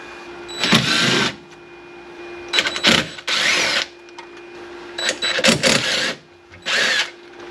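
An impact-style power tool whirs in four short bursts, loosening 12 mm bolts on the brakes of a 1985 Porsche 928 S Euro, with quiet pauses between runs in a close workshop setting.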